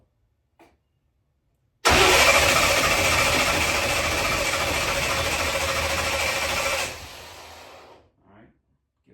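A twin-turbo small-block Ford engine fires up abruptly and roars loudly and steadily for about five seconds before cutting off, with brief faint voices before and after.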